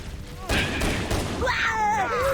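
Rapid gunfire bursts in Halo: Combat Evolved 20th Anniversary, loud and continuous from the half-second mark, mixed with booming impacts and in-game voices and tones.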